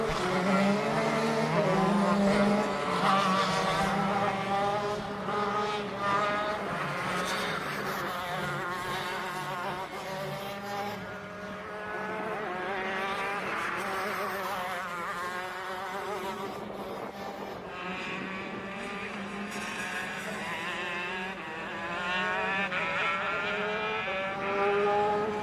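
Mini FZ65 shifter-class karts race at Adams Motorsports Park, a loud, continuous high-pitched buzz of several small two-stroke engines wailing and shifting pitch as they pass close by, with no voices.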